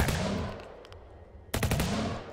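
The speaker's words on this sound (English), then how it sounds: "This thing fires a lot of bullets" Rapid machine gun fire in the video game USC: Counterforce, two fast bursts of loud chattering shots separated by a short pause.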